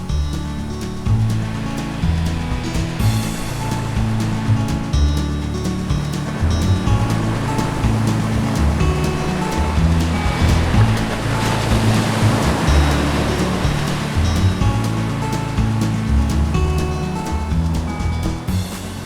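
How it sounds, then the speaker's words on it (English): Wind and waves on Flagstaff Lake in Maine, beneath the Bigelow Range: a steady, loud wash of surf and gusting air that rolls on without a break, with no voices. "The wind was already up."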